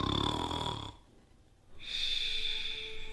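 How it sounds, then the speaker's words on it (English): Someone snores while asleep in two long, raspy breaths with a quiet pause between them, close and fairly loud, with no talking over it. "Are you snoring?"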